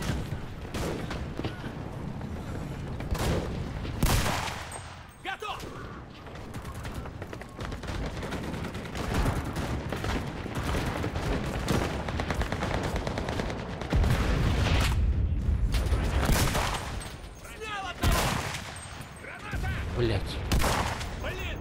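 Sustained gunfire in the World War II shooter Enlisted, rapid rifle and automatic bursts with occasional heavier blasts, near and loud throughout, while someone talks over the shooting.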